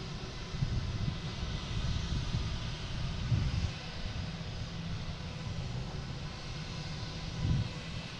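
A British Airways airliner departs Boston Logan International Airport, a broad, steady jet roar heard from a distance with wind buffeting the microphone, and no voices.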